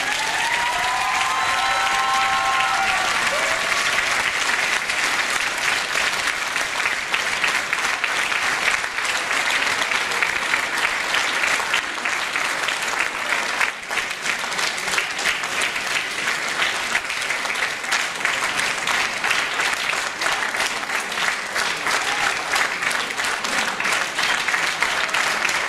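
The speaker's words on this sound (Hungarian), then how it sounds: "Egy nagy tapsot aztán megérdemel." An audience at a Christmas concert claps in sustained, dense applause, loud and steady for about twenty-five seconds with no pauses, and some speech is faintly mixed in.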